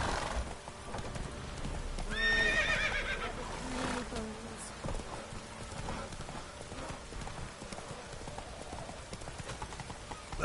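Roach, a horse in The Witcher 3, gallops with steady clip-clop hoofbeats and snorts or whinnies partway through, all close and loud over game ambience.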